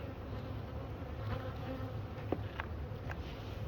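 Honey bees hum in a dense, low, continuous drone around an open hive during an inspection, close and steady, with a few faint clicks of frames and tools.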